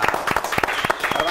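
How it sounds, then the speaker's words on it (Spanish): Studio audience at a Córdoba cooperative channel's tenth-anniversary show gives a short burst of clapping, individual claps distinct and fairly near, lasting just over a second. "vamos a dar un aplauso"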